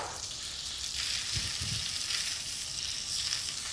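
Finely chopped shallots fry in olive oil and butter in a saucepan, giving a steady, close, bright sizzle with no pause, plus a couple of low thumps near the middle as the pan is handled.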